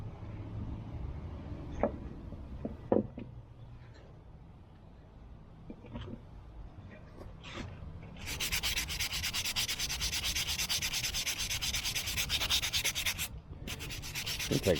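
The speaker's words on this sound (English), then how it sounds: "It'll take a good bit of sanding" Sandpaper rubbing a carved fruitwood spoon, a soft close scratching that turns into a denser, steady hiss through the second half, with a few light knocks and handling sounds early on.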